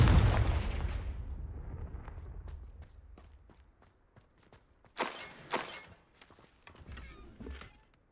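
A Confringo fire spell exploding in Hogwarts Legacy, opening with a loud booming blast that decays over a few seconds, followed by scattered sharp cracks and a couple of further bursts near the end.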